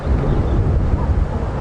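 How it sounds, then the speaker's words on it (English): Strong wind gusts buffet the microphone at Buffelshoek Dam during an afternoon safari drive at Djuma Game Reserve, producing a loud, continuous low rumble with no talk. "there's plenty of wind happening around here"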